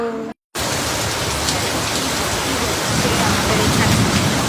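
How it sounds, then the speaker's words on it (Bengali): Heavy rain in a storm with gusty wind, a loud, dense, continuous roar of pouring water that swells slightly toward the end after a brief silent gap at the start, no talking. "খুব বৃষ্টি হচ্ছে"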